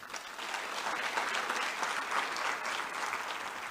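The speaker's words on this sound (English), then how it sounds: "Please do give them a round of applause." Audience at a South African youth awards ceremony breaks into applause, a sustained, even clapping that swells after a quiet start and continues steadily, moderately distant, with no speech over it.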